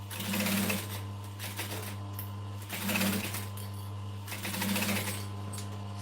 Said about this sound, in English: I'm going to do 3 stitches and then go back into the first hole.